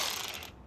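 A ratchet clicks rapidly for about half a second, loosening the strut bar nuts on an Alfa Romeo Giulia, then stops into quiet.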